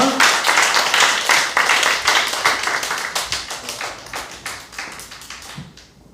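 A church young adults' service audience applauds to welcome a speaker to the front, a burst of rhythmic group clapping that gradually thins and fades out over several seconds.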